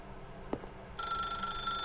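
A telephone in The Stanley Parable starts ringing after a brief knock, with a bright, continuous electronic ring that fills the second half, close and clear with no talk.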